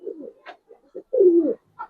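Coloured Giribaz pigeons coo in short low bursts, ending in one longer rolling coo with a brief call after it, close and clear with no talk.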